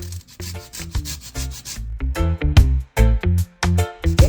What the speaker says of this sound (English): I just washed my lemon and I dry it, so I'm gonna grate a little zest